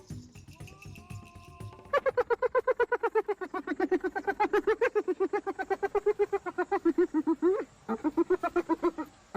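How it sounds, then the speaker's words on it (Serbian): A long series of rapid, rhythmic whooping yelps pulses steadily, loud and close, with a brief pause before the chattering resumes. "Slušajte sada hijenu."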